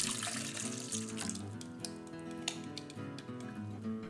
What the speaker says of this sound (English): First off, I'll add the liquid to the bowl.